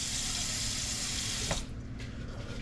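Water runs steadily from a kitchen tap into a sink for about a second and a half, a loud broad hiss that then cuts off, leaving quieter room sound.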